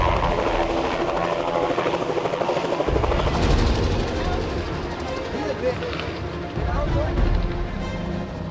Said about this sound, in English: Okay, we're gonna take the helicopter now.